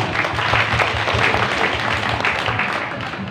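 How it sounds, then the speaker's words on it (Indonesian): A large gathering breaks into sustained applause, a thick, loud wash of many hands clapping evenly throughout, with a low murmur of voices underneath. "Tepuk tangan untuk kita semua"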